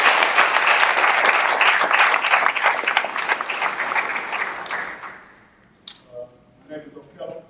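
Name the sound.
audience applause after a performance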